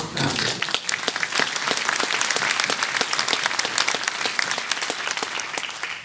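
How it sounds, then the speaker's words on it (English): A crowd claps at a city's State of the City event, dense and loud applause that fills the whole stretch, with individual sharp claps poking through the continuous roar. "So I want to give another hand clap."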